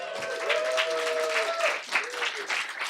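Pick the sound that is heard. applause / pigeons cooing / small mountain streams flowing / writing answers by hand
applause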